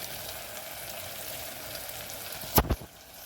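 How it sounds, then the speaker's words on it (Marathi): Masala sautéing in a pan gives a soft, even sizzle close by, with a short double clatter of a utensil near the end. "तर आता ह्याला मस्तपैकी परतून घ्यायचं"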